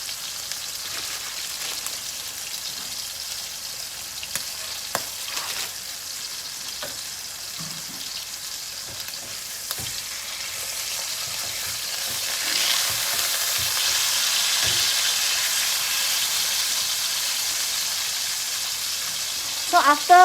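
Pork chops fry in a pan with a soft, steady sizzle and occasional crackle. The sizzle swells a little louder partway through, and faint clinks sound now and then.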